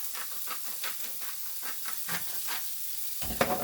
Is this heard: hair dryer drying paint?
no